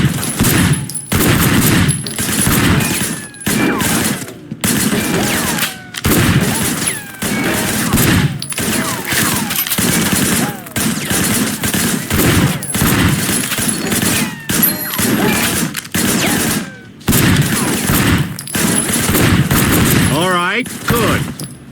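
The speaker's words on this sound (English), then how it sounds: "I want you to put some bullets in a few things." Heavy gunfire fills a firefight in the PC game Sleeping Dogs Definitive Edition. Rapid automatic bursts and shots continue almost without a break for the whole stretch, loud and close, with crashes mixed in.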